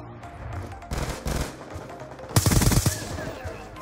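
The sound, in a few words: SCAR-H rifle gunfire in Black Ops 2 video game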